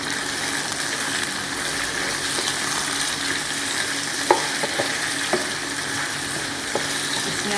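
Chicken frying with onions in a pot, a dense continuous close sizzle with a few soft stirring knocks against the pot.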